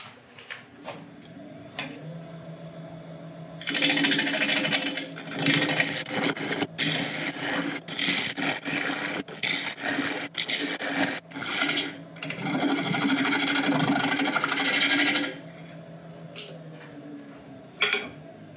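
Bowl gouge cutting into an elm bowl spinning on a wood lathe, a loud rough scraping hiss in long sustained bursts with brief pauses between cuts, close up and alone.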